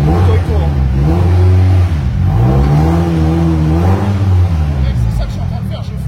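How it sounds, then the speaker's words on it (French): A car engine revs hard while the brakes hold the wheels locked, droning loud and close with rising and falling pitch in several surges over steady background noise. "Mec, c'est ça que je suis en train de faire, je freine et j'accélère."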